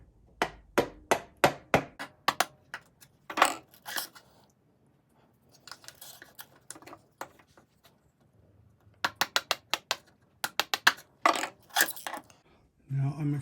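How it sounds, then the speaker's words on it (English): A 1/8 inch chisel is hammered into wood while cutting a butterfly key recess. Crisp, close taps come in quick bursts of four to six strikes, separated by pauses, with some lighter scraping between them. "I'm just using a 1/8 inch chisel"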